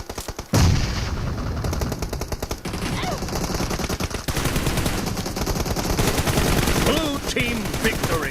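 Rapid automatic gunfire in a BGIS battle royale match, dense bursts of shots crackling continuously and loud, with an in-game announcer voice and excited chatter mixed underneath.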